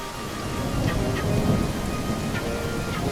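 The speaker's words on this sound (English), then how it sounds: "so it's raining. As you can see, there's like weather in here." Steady rain hiss with low thunder rumble in the weather of the Untamed video game demo, a continuous wash of rainfall with faint scattered drop ticks, moderately loud and without talk.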